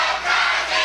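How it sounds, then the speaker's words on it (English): A wrestling crowd at the Mid-Atlantic Sportatorium roars in a dense, loud, sustained cheer that swells briefly and holds steady throughout. "This crowd is rocking and rolling."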